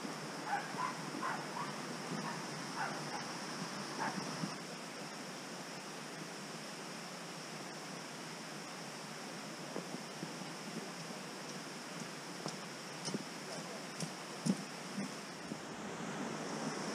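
Steady rushing water flowing down a gorge in the Peak District fills the scene, a constant broadband wash with faint splashes and wind, moderately distant.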